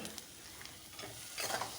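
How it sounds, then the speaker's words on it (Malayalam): Onion, green chilli, tomato and bitter gourd being sautéed for a roasted-coconut bitter gourd curry: a soft, steady sizzle with faint stirring scrapes, growing slightly louder near the end. "ഉള്ളി പച്ചമുളക് തക്കാളിയൊക്കെ വഴറ്റി അതിനകത്തേക്ക് കൈപ്പൊക്കെയും കൂടെ ചേർത്ത് നല്ലപോലെ ഒന്ന് വഴറ്റിയെടുത്ത്"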